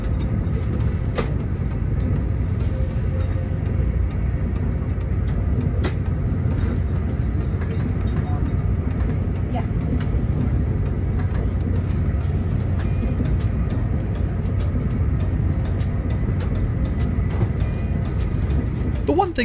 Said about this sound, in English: Let's take a moment to really appreciate this high-speed ride.